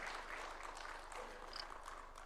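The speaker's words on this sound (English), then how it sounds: "Why don't we welcome him with a hearty and warm clap as he comes to address us." An audience at State House in Nairobi applauds a presidential arrival, dense sustained clapping from many hands filling the room, fairly distant and even throughout.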